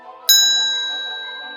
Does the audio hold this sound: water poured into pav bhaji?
no